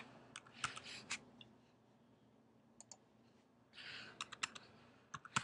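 Keys click on a computer keyboard in quiet, scattered bursts of quick taps with short pauses between them, faint and close with no talking.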